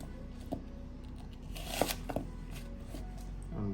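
A knife chops through a bell pepper on a cutting board, a few crisp cuts and thuds spaced irregularly, quiet and close with no speech.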